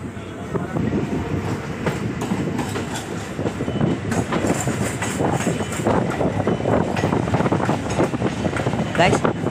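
Suburban train leaving Chennai Central bound for Gummidipundi, steady carriage rumble with rhythmic clickety-clack of wheels over joints and wind noise throughout.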